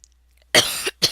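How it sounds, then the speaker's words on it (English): A man coughs close to the microphone after a brief quiet moment: one harsh, raspy cough, then a short second one. "I have a bit of a cough, I guess."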